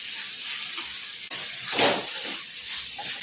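Vegetables being stirred with tomato ketchup in a hot pan: a constant close-up sizzle, with a brief scrape at the start and a louder hissing swell as the mix is turned.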